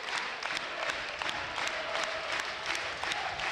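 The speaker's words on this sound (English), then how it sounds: "Applauding the Knights." A large crowd at a York Knights v Batley Bulldogs rugby league match applauds steadily, a dense patter of clapping sustained throughout with a faint murmur underneath.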